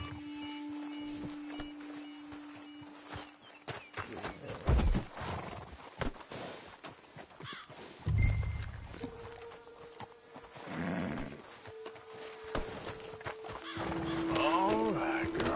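Horse hooves clip-clop in uneven bursts in a PS4 video game, with a whinny and snorts, mixed with the game soundtrack's tones and effects.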